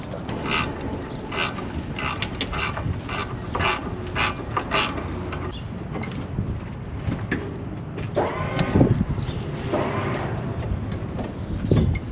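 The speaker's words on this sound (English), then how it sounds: "I'm gonna loosen them bolts" Ratchet wrench loosening bolts during disassembly of a Bombardier SW48 locomotive, a run of quick metallic clicks early on, then scattered clanks and creaks over a steady shop rumble.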